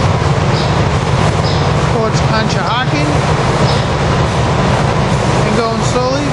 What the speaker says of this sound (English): 647 and 7909 leading the way for this trash unit train over the High Line